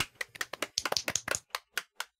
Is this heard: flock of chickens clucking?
no